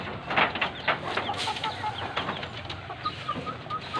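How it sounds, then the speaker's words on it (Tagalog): Backyard chickens cluck in Kaloocan City, a steady run of short hen calls near and far over faint outdoor ambience, with no talk. "kinukunan ko lang yung mga manok na pinaalagaan ko kay Richard Ristom"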